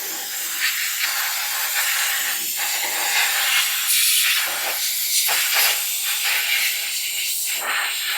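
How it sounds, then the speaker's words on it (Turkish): Compressed air blows hard over a gun part to dry it, a loud continuous hiss that lasts the whole stretch with slight wavering as the nozzle moves. "Ardından havayla kurutuyoruz."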